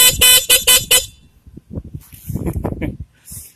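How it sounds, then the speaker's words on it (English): Four short, sharp blasts from a 12-volt motorcycle horn sound in quick succession, close and loud, followed by quieter clatter and handling noises. "this is a 12-volt motorcycle horn"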